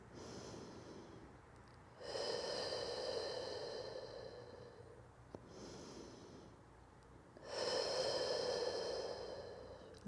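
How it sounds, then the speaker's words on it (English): Slow, deep breaths during a shoulder stretch: two long, close inhale-exhale cycles, each a soft, airy rush lasting a few seconds, with quiet pauses between. "Let's take a few more breaths here."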